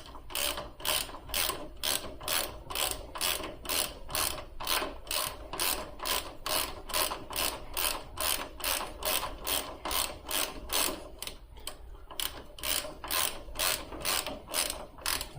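Ratchet wrench loosening the nut on the shift lever bolt of an airhead motorcycle, a fast steady train of sharp clicks that runs close and loud throughout, with no talking.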